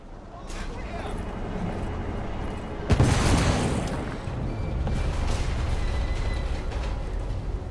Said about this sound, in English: The damage from the explosion is getting worse.